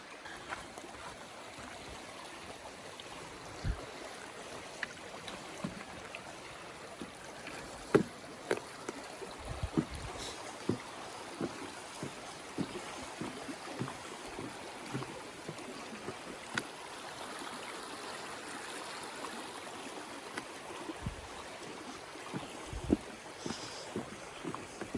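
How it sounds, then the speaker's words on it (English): A heavy-flowing creek rushes steadily at a trail log crossing, a constant broadband wash with scattered low thumps and knocks, no voices. "We go over this log to get over this heavy flowing creek"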